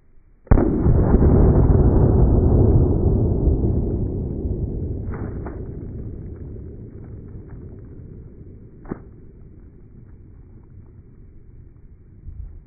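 A single loud 9mm gunshot fired through a watermelon and drywall, a sharp blast whose boom rolls away slowly over several seconds, with a couple of faint clicks afterward.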